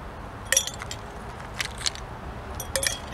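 Ice cubes dropped into a mason jar for homemade lemonade, giving a few sharp, bright glassy clinks in small clusters against a quiet background, with no speech.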